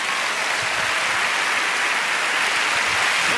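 Steady audience applause fills a comedy stand-up show, a dense even wash of many hands clapping at constant loudness with no talk over it.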